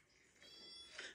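A single faint cat meow, short and somewhat distant, in an otherwise quiet village setting.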